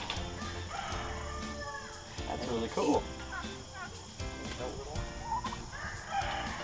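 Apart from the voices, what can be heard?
turkeys gobbling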